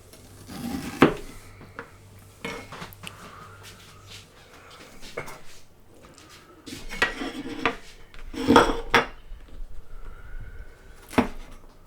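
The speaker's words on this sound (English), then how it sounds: "So just chopping up the ginger." A knife chopping ginger knocks against a cutting board in scattered clusters of sharp chops, close by, with light clatter between strokes and no talking.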